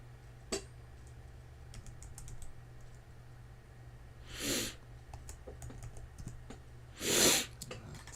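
Quiet keystrokes tap unevenly on a computer keyboard over a low steady hum, with scattered clicks and two short breathy bursts between the typing.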